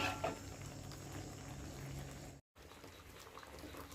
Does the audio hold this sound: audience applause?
no